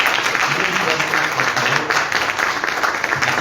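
A roundtable audience applauds as the panel stands, a steady dense wash of clapping that holds evenly throughout with some voices mixed in.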